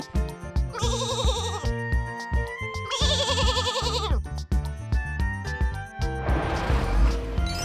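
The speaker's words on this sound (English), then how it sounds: "Sheep." A sheep bleats twice in long quavering cries over cheerful background music, followed by a short noisy burst.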